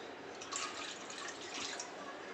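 Water is poured into a pan for Thai egg soup, a soft, steady splashing and trickling close by, with faint background noise.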